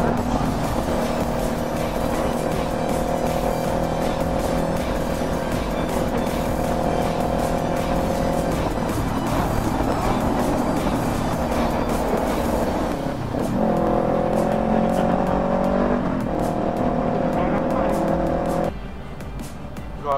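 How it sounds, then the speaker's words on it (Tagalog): Heavy road traffic during a long ride from Taguig City toward Mindoro: a continuous close engine drone with steady humming tones, a brief shift midway and a slight drop near the end, with no talking. "Grabe traffic oh."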